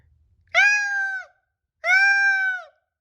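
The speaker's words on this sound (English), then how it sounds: "the meows got louder and louder" A cat gives two long, clear meows separated by a short pause, loud and close with silence around them.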